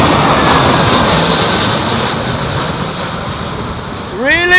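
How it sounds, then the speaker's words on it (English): Jumbo jet at London Heathrow Airport during Storm Isha, a loud, sustained roar of aircraft engines mixed with heavy wind noise, with rising tonal whines appearing at the very end. "We've got a jumbo jet, ladies and gentlemen."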